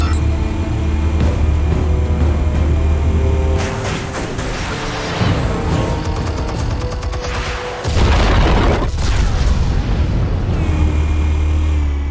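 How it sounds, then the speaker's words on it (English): Explosives detonate in the strategy video game They Are Billions: loud, dense booming bursts that swell and break off, then erupt again after a short lull, over a low droning game backdrop. "Explosives armed. Fire when ready."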